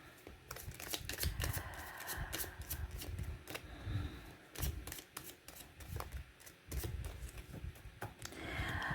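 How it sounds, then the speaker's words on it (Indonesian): Tarot cards shuffled by hand in a close, steady run of crisp riffling and flicking, faint and alone with no talk. "sambil saya baca doa dan saya kocok kartunya"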